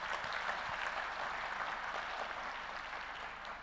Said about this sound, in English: So please, a round of applause for the last number of speakers.